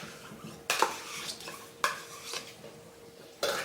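Mascarpone being stirred into whipped cream in a bowl, giving a few sharp utensil knocks against the bowl between quieter scraping, close and fairly soft.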